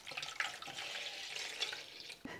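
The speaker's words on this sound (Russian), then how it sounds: "В мисочку я выливаю разогретое молоко." Warmed milk is poured into a small bowl, making a soft, continuous liquid splashing and trickling sound for a couple of seconds, close but quiet.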